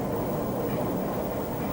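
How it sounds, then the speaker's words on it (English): A works train hauled by a Clayton battery locomotive rumbles past with a load of spoil in a Glasgow Underground subway tunnel, a steady close, loud low roar of rolling wheels throughout with no voices. "a works train pulled by a Clayton battery loco passes with a load of spoil"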